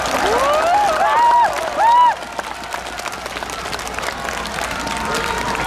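A rally crowd at a final campaign event claps and cheers in encouragement, a broad wash of applause beneath a loudspeaker voice and whistles early on, fading to a lower murmur.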